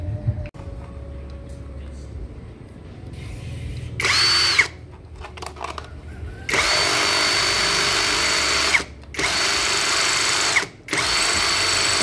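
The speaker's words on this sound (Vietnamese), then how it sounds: "mình khoan lấy mũi trước cái đã," Power drill in use while building a shelf from an old pallet: loud, steady whining bursts of drilling separated by short pauses, with quieter handling noise before the first run.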